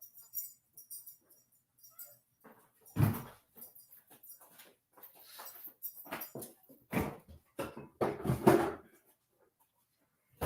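Dogs whimper and give short yips and barks indoors, scattered bursts at moderate distance with quiet gaps between.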